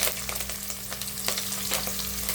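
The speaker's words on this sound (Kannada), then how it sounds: "ಸಾಸಿವೆ ಸಿಡಿತಾ ಇದೆ. ಈರುಳ್ಳಿ ಮತ್ತು ಕರ್ಬೇವಿನ ಸೊಪ್ಪು ಹಾಕೊಂಡಾಗ" Mustard seeds splutter in hot oil with onion and curry leaves frying for a radish sambar, a close, steady sizzle studded with sharp crackling pops and bursts.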